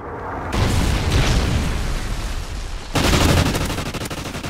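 Rocket strike exploding in a first-person shooter video game, a loud sustained roar of blast and rumbling debris with a second heavy burst partway through, close and dense, no voices.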